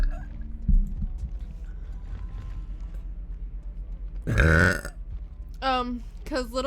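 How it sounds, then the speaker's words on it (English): A woman lets out a loud, drawn-out burp up close, followed by higher vocal sounds and a second short burp amid quiet background hum. "There comes an actual burp."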